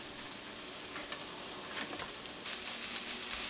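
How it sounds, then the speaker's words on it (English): Vegetables sauté in a frying pan for a lasagna, a continuous close hiss of sizzling with light stirring scrapes that grows a bit louder toward the end. "At this point, the vegetables should be sautéed pretty well and can be added to the tomato sauce."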